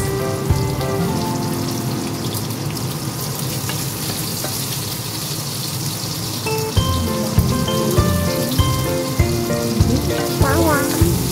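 Sliced onions going into hot oil in a frying pan while mung beans are cooked, giving a loud, steady sizzle that intensifies partway through, with irregular stirring scrapes and clatters close by.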